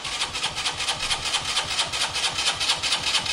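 A small Keeway motorcycle engine runs steadily with a rhythmic pulsing drone, moderately loud and close, with no talking.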